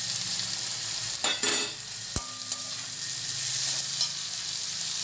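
Tomato and vegetables added to onions frying in a pan for channa masala, a steady sizzle with a couple of stirring scrapes and one sharp metallic clink, close and without talk.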